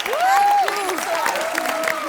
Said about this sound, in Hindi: एक बार बेगम जान की पूरी स्टार कास्ट के लिए ढेर सारी तालियां हो जाएं